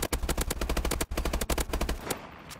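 Rapid automatic gunfire in the video game Call of Duty Advanced Warfare, loud close bursts of evenly spaced shots with a brief pause near the middle, ending after about two seconds.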